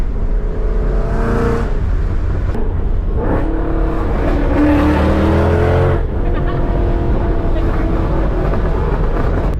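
Supercharged Ford Mustang S550 with a six-speed driving past, a loud engine roar that swells and fades with shifting pitch, dense wind and road noise throughout.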